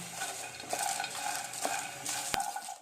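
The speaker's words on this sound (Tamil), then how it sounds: "இது ரெண்டுத்தையும் வெறும் panல வந்து ஃப்ரை பண்ணி எடுத்துக்கோங்க." Red chillies and cashews dry roasting in a plain pan, with soft scraping and stirring sounds, a few sharp clinks of a utensil against the pan, over a faint steady sizzle.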